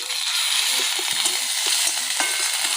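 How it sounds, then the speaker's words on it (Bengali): Bright, steady sizzling of browned onions frying in hot oil with ginger-garlic paste, with soft stirring scrapes, close and continuous without talk. "পুরো লাল করে ভাজা হয়ে গেছে এদে আমি অর্ধেকটা আদা রসুন দিয়ে দেবো"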